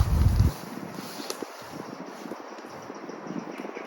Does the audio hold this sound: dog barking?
no